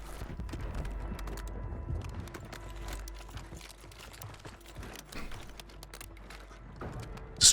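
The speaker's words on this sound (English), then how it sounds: "We hear the footsteps getting closer" Footsteps in Call of Duty Warzone on Rebirth Island, a run of quiet, irregular tapping and clicking steps mixed with faint game ambience, with a sharp louder burst at the very end.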